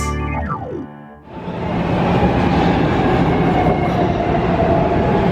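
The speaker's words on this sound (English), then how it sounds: "We're taking this train to Frankfurt Transit Center." Passenger train ride bound for Frankfurt Transit Center: a descending tone fades out, then loud, steady rumble of wheels and carriage noise fills the rest, close and continuous with no talk.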